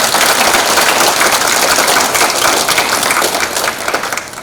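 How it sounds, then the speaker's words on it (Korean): Sustained applause from a sizable crowd at a Korean War anniversary ceremony in Yeosu, dense steady clapping at an even loudness throughout, with no voices standing out. "다시 한번 큰 박수 부탁드립니다"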